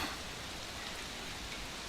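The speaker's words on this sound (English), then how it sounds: "They say this might be the worst rains we've had in a century." Heavy rain pours steadily in a video game, a dense, even hiss with no break across the whole short stretch, fairly soft in level.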